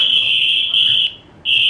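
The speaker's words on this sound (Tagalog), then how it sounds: "pag i-click ko yung alarm" A CCTV camera's built-in alarm sounds loud and close, a shrill steady electronic beep that breaks briefly and then resumes.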